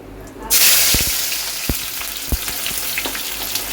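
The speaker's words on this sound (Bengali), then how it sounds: "আমি অর্ধেকটা পেঁয়াজ এর দিলাম আর অর্ধেকটা পরে দেব" Onions hit hot oil in a kadai wok for a coriander chicken dish, a sudden loud sizzle bursting in and then holding steady, with a few sharp stirring knocks against the pan.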